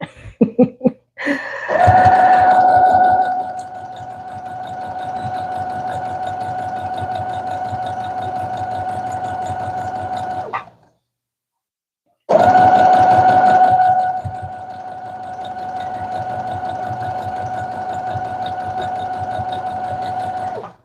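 A sewing machine stitches a quilt border in two long, steady runs, each starting with a brief louder whir and then settling into an even hum. A short silent pause separates the two runs.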